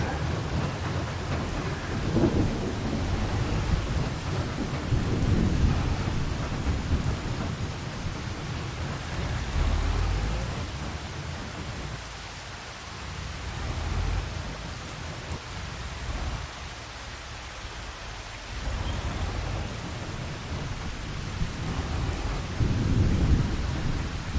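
Steady rain pours down in Farming Simulator 25, set in Scotland, with low rolling thunder rumbling through it, a dense continuous wash of sound at fairly high level and no voices.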